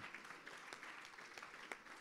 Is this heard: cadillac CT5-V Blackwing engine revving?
no